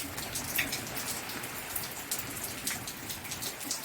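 Steady rain patters on a surface, with scattered drips and splashes standing out, moderately loud and continuous with no voices.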